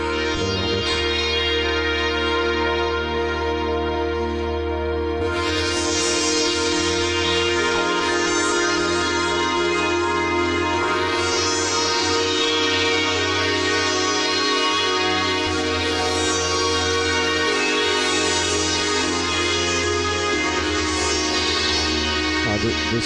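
Korg Z1 synthesizer playing a factory patch with a single programmed layer, a dense sustained harmonic tone with steady low bass and shifting bright upper partials, loud and continuous throughout with no talking.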